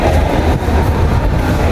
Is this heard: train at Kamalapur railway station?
yes